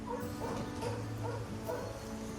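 A dog gives a few soft yips and whimpering barks at a rural ranch home, faint and fairly distant over a steady low rumble.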